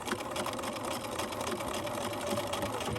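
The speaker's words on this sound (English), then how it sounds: "So I'm gonna sew all the way across." A sewing machine runs steadily at close range, stitching straight across a fabric owl's eye with continuous rapid buzzing and no talking.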